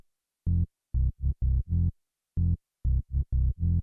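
A fat Serum synthesizer preset layered under a bass line pumps out short, gated low notes in a repeating syncopated pattern, close and clean, with silence between the phrases and no talking.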